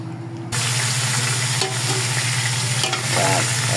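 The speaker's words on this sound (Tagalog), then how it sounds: "ilalagay na natin itong ating panggisa" Aromatics hit a hot cooking pot for the Filipino dish lauya, setting off a sudden loud sizzle after a quiet half-second, with steady frying crackle and stirring scrapes continuing throughout.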